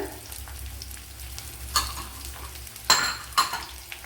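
Chopped onion hits a hot pan and fries with a steady sizzle, broken by a few sharp clattery bursts of stirring near the end. No one speaks.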